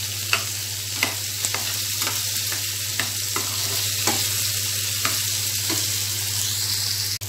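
Onions sautéing with salt for hotel-style onion chutney: a constant loud hissing sizzle with light, regular ticks of a spoon stirring through the pan, no voices.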